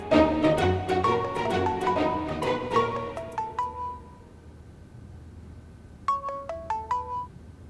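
A melodic phone ringtone chimes loudly in a rising run of bright tones, goes quiet for a couple of seconds, then starts its tune again, with no voices.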